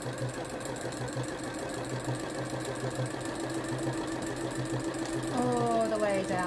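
A sewing machine runs a zigzag stitch along a seam in boiled wool, a steady close mechanical whir with a fast regular beat, picking up slightly near the end.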